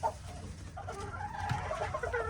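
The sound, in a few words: chickens, pullets clucking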